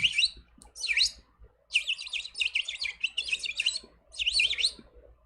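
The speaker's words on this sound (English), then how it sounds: "when he sing, the birds, they start singing too" Birds sing in bright, high chirping bursts: a few quick calls, a pause, then longer trilling phrases. The song is clear and fairly close against a quiet background, with no voices.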